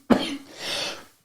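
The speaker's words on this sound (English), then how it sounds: "We made a little pause to give you some breathing space for the cough." A single sharp cough, quickly followed by a short raspy exhale and throat clearing, close and alone with no talk.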